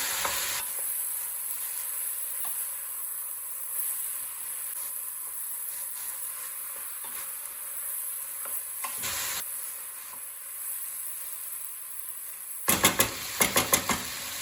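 Poppy greens and potatoes sizzle steadily in a pot while being stirred, a soft continuous frying hiss with occasional scrapes and a few sharp clicks toward the end.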